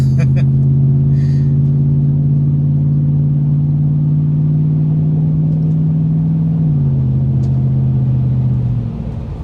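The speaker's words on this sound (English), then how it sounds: "even at a soft pull like that, just barely accelerating, it sounds good" A Lexus GX470 with the muffler and resonator deleted pulls away gently, its loud, steady low exhaust drone holding even, then dropping slightly as the throttle eases near the end.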